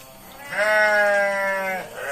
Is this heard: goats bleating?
yes